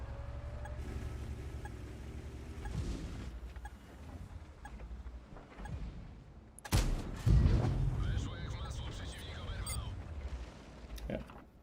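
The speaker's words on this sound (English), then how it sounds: "Yeah, artillery gets involved." Artillery fire in the video game World of Tanks: heavy booming shell impacts and cannon blasts, with a loud burst in the middle followed by rumbling debris, under scattered in-game engine drone and a player's talk.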